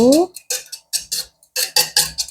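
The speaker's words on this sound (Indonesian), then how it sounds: "ini pakai 3 telur ya. Kita kocok dulu." Three eggs being whisked in a bowl, heard as several bursts of quick clinking and scraping strokes separated by short pauses, close and fairly loud, with a brief voice-like tone at the very start.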